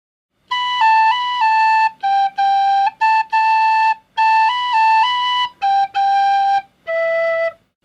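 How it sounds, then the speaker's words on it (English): Tin whistle playing a short beginner practice exercise: a run of clear, bright notes in separate phrases with small pitch steps and brief gaps, close and solo, with no one speaking. "these are great beginner exercises on the tin whistle"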